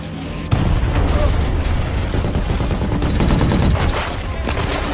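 Mortar attack with heavy gunfire in a war film, loud, dense bursts of shots and booms that start abruptly and keep rolling without pause, close and chaotic throughout.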